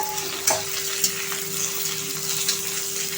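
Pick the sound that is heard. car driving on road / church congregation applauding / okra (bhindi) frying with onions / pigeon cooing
okra (bhindi) frying with onions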